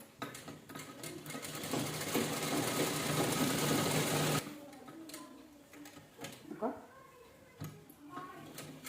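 A sewing machine runs steadily for a few seconds while stitching a two-colour purse, then stops, leaving faint ticks and fabric handling along with someone speaking nearby.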